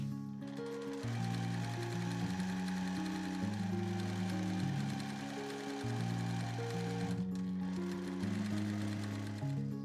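A sewing machine bastes a bamboo tote bag 5 mm from the edge, running in bursts of rapid stitching with short pauses between runs, close and moderately loud with no talking.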